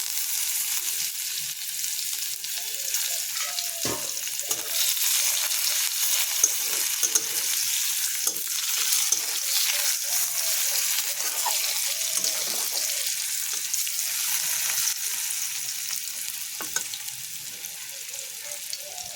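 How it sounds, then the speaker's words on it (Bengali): Chopped onions with whole cumin fry in oil in a pan, giving a continuous loud sizzle with occasional stirring scrapes over about twenty seconds, no voices. "পেঁয়াজগুলো লাল লাল করে ভাজা হয়ে গেছে।"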